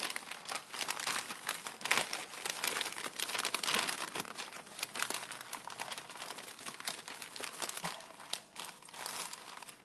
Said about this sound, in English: If you've got some newsprint paper, I want you to kind of make it in an accordion effect like this.